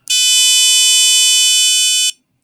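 A programmable board's buzzer sounds one long, loud, steady electronic tone for about two seconds, then cuts off cleanly, with no talking over it.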